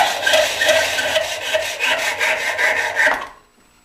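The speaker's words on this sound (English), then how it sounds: "Now I'll hacksaw it." A hacksaw cuts a wooden biscuit spline held in a clamp, giving a close, steady, rhythmic rasping of back-and-forth strokes that stops after about three seconds.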